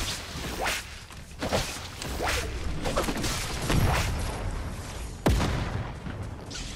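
Gunfire in Fortnite rings out as a scattered series of sharp cracks and whooshing shots, some near and loud, others farther off, over a busy rumbling game background.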